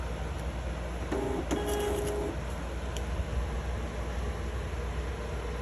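A Zebra GK888t barcode label printer runs a short mechanical whirr for about a second as a label feeds out, over a steady hum of room noise, with no talking.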